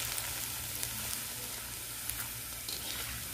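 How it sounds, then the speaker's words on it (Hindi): Papad frying and puffing up in hot oil, giving a dense, continuous sizzle and crackle close by, steady in loudness with small pops scattered through, no voices. "लो जी थोड़े जे आप पापड़ भी फ्राई कर लेंगे"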